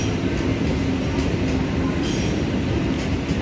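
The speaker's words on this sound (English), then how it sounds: "As the non-service train departs" A non-service train departs Central station with a steady, loud rumble of wheels and rolling stock close by, carrying a faint high squeal along the rails throughout.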